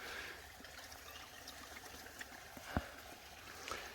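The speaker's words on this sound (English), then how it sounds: "I'm in a really low flow creek" Water trickles faintly over gravel in a low-flow creek at a gold prospecting site, a soft steady burble with a few small clicks and splashes.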